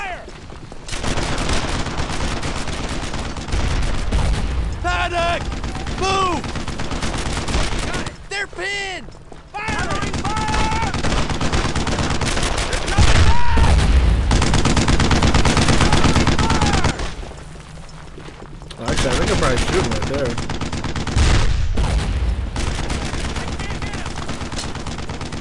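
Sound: gunfire in Brothers in Arms: Earned in Blood video game

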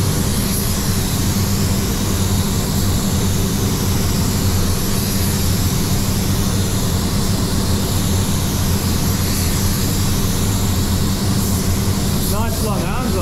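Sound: spray gun spraying paint on a car panel

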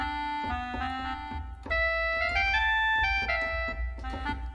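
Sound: clarinetica free VST plugin melody

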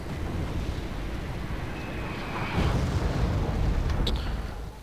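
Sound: artillery firing in Wargame Red Dragon video game

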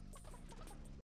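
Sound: chicken clucking in video game Realm Royale

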